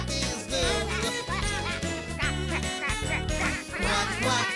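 Singers imitate duck quacks in a bouncy children's song, rhythmic sung quacks over music with bass and chimes, loud and upfront.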